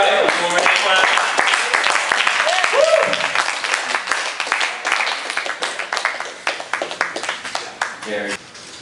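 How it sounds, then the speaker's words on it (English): An audience at a church gathering claps by hand, the claps growing more distinct and rhythmic as the applause thins out, with voices and cheering audible early on. "One more hand clap."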